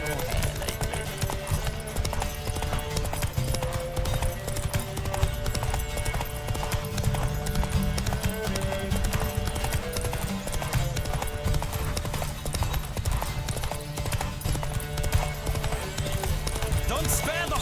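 Galloping horse hooves in a race in the Witcher 3 video game, a steady rapid clip-clop drumming continuously up close, with game music and voices talking over it.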